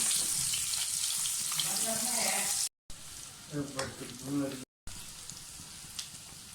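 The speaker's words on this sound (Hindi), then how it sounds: "सबसे पहले हम प्याज डालेंगे, तो थोड़ा सा फ्राई करें।" Onions frying in a pan, a constant bright sizzle with a few stirring sounds, briefly broken by short gaps, while a voice speaks faintly in the background.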